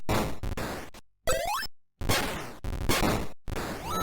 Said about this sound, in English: It's just your basic smash sound effect.